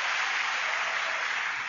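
A dense wash of applause from a large crowd, many hands clapping steadily and evenly throughout, with no voices.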